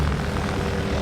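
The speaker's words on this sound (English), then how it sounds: "The helicopter is now approaching." A utility helicopter flying near high-voltage power lines gives a steady, dense rotor and engine roar that stays constant and close.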